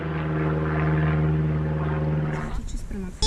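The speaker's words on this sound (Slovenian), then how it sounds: "Še letalo da odleti." A propeller airplane drones overhead as a steady, loud hum for about two and a half seconds, then fades out beneath nearby voices and handling noise.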